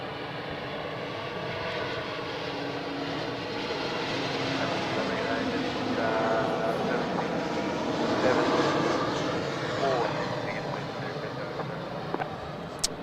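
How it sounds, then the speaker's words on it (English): An Alliance Airlines jet lands at Adelaide Airport, its engine roar building slowly to a broad peak and then easing, steady and moderately distant, with talk underneath. "Alliance 3137 dropping in from Olympic Dam right now."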